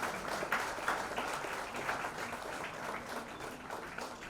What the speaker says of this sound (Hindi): अच्छा देखिए, ये निवेदन है कि तालियों में कंजूसी ना करें।